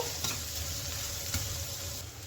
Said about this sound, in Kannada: ಅದನ್ನು ಇದರಲ್ಲಿ ಚೆನ್ನಾಗಿ ಫ್ರೈ ಮಾಡ್ಕೋಬೇಕು. ಈರುಳ್ಳಿ ಚೆನ್ನಾಗಿ ಫ್ರೈ ಆಗಬೇಕು.